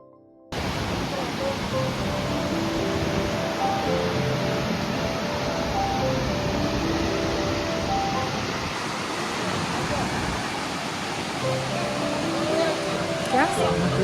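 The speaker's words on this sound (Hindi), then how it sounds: "जैसे ही वाटरफॉल को करीब से देखा हम बस देखते ही रह गए" Jung Waterfall in Arunachal roars up close as a dense, loud, unbroken rush of falling water that starts abruptly and stays constant throughout, with faint voices mixed into the noise.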